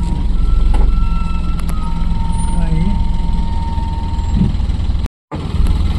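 Traffic on a highway near Thrissur, Kerala, with a truck's reversing alarm beeping repeatedly over a steady engine rumble and road noise, with voices talking nearby.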